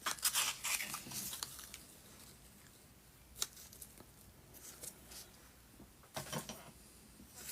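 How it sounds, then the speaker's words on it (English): Scissors snip through a strip of roofing material during a model French chateau build, a few crisp, close cuts at the start and again near the end with quiet handling between. "I'll just cut another length of this off"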